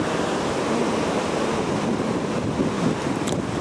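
Waves break on Palolem beach in Goa, India, making a continuous, loud surf roar with rough wind buffeting the microphone and no distinct individual breakers.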